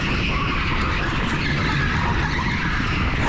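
A go-kart slides around a corner on a wooden track surface at an indoor karting circuit, giving a continuous loud, rough skidding roar with engine drone that holds steady and close for the whole stretch.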